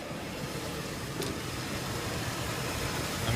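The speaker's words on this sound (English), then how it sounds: "I mean, this engine's business." 1994 Buick Roadmaster Estate station wagon with an LT1 V8 runs in a steady, moderately loud hum, heard from inside the car with no talk over it.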